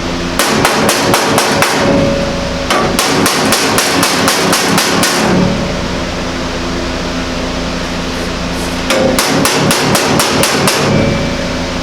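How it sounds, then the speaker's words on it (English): Rapid metallic hammer blows on a sheet metal roof of a Model A hot rod truck ring out in fast bursts of a dozen or so strikes, pausing between runs, loud and close with a hum underneath. "Hammer it down tight to the roof."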